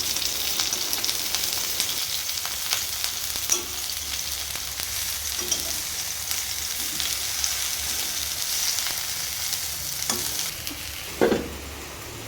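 Hilsa fish paturi frying over low heat in a covered pan makes a constant near sizzle, with occasional knocks and scrapes as the parcels are turned and a louder clatter near the end; no talking.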